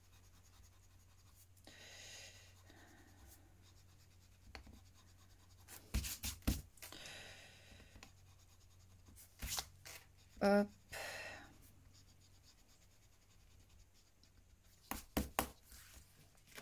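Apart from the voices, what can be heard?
eraser rubbing on paper bookmark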